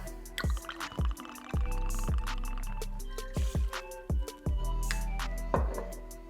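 White rum poured into a cocktail shaker packed with crushed ice for a Mai Tai, heard as a run of close, crisp drips and clinks with short splashy bursts, no talking over it.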